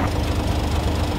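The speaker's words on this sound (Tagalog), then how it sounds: "Isuzu truck, rescue, panghatak." An Isuzu Giga rescue tow truck's diesel engine runs nearby as a loud, steady low rumble that holds evenly throughout the short stretch without any voices.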